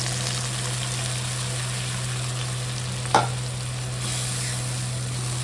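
Spice paste frying with browned potatoes in a pan for a Bengali catla fish curry, giving a steady sizzle throughout with one brief stirring scrape midway; no talking.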